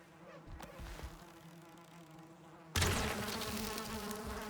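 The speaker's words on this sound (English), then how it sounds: "Hold up, we gotta kill some bees." Insect buzzing from bees in a video game, a steady drone that gets abruptly louder and denser partway through and then holds, with no talk over it.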